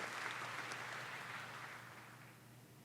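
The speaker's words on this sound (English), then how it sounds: "Quite generous applause for," Crowd applause at a snooker match in Snooker 19, a steady patter of clapping from a small audience that slowly fades over about three seconds, no talk.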